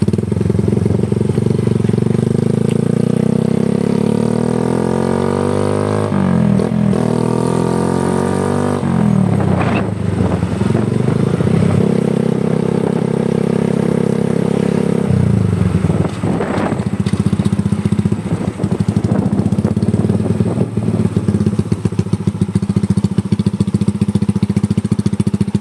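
Bajaj Rapid motorcycle fitted with an aftermarket pipe, loud and close, idling with a throbbing rumble and rising and falling through several revs, with crackling pops as it backfires, no talk.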